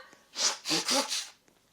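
A person blowing their nose in several quick, close, forceful bursts, each a breathy rush of air, with no talk.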